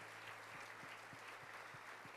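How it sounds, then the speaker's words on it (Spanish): Faint, distant congregation applause in a church service, a steady wash of clapping with a soft rhythmic beat pulsing under it and a low electrical hum. "Dele fuerte el aplauso al Señor."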